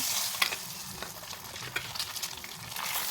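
Eggs frying in oil with turmeric in a pan give a steady, close sizzle with spatula scrapes and clicks breaking through at intervals.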